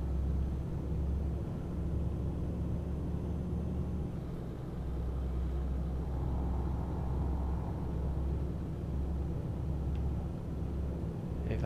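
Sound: truck engine accelerating in video game Euro Truck Simulator 2

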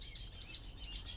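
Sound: small birds chirping

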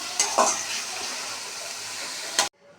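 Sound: stirring masala gravy after adding water

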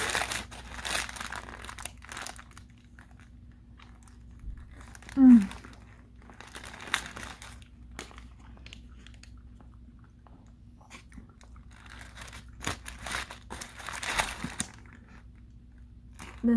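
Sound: eating crunchy Taco Bell food

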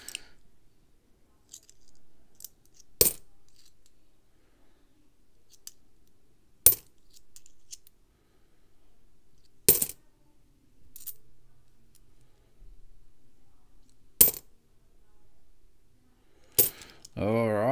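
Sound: Australian $1 coins being handled and dropped

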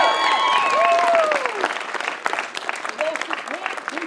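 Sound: audience applause for the Goffstown Screaming Eagles coaches

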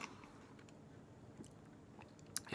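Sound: person chewing food

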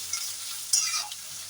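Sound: onions stirred while frying in pan

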